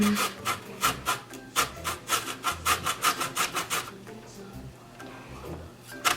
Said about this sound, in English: 1 teaspoon of lemon zest, but we're just gonna zest it over the bowl and see what happens.